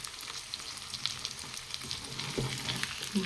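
Pieces of mutton fry in a pan at home, a soft steady sizzle with faint crackles and an occasional scrape or stir, fairly quiet throughout.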